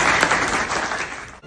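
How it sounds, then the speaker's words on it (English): A seated audience gives a warm round of applause after a guest shares a personal story about a book, dense steady clapping filling the room before it cuts off abruptly near the end. "round of applause."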